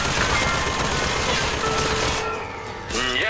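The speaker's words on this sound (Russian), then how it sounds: "На что она стреляет?" Rapid automatic gunfire rattles loudly and steadily in the BioShock Infinite video game, then cuts off abruptly and a short rising tonal effect follows.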